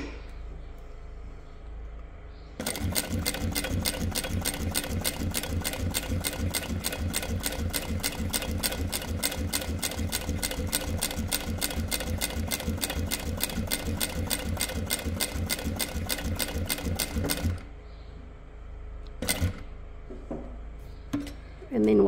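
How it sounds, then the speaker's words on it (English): A Jack H2 single needle walking foot industrial sewing machine stitching, a fast steady rhythmic clatter running for about fifteen seconds, then a few single stitches, close and clear. "You just press the button and it does a single stitch when you're working towards the end of your product."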